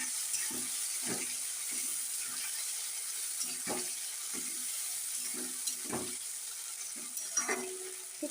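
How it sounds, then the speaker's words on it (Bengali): Chopped onion and a bay leaf fry in hot oil in a pan, a continuous soft sizzle with scattered crackles and light scraping knocks from stirring. "চলুন পেঁয়াজটা ভেজে নিয়ে তারপর আবার আসছি।"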